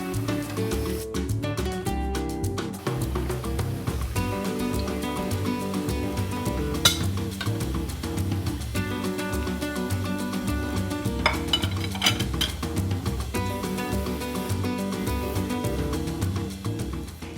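Fried golden potatoes are lifted out of a frying pan in a home kitchen for patatas a la importancia. Repeated metallic clinks and scrapes of utensils against the pan mix with a light sizzle and ring out over a continuous background of music.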